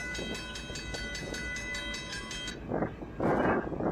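A train in the Roblox game Ultimate Mining Tycoon rumbles past loud and close, giving a steady rolling clatter with tonal horn-like ringing, followed by bursts of hissing noise near the end.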